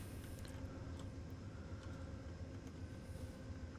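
A Metro train passing in Train Simulator 2020, a continuous loud rumble of wheels and motors that holds steady throughout with no speech.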